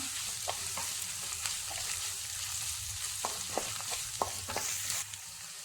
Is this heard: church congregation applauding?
no